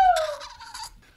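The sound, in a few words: person imitating a rooster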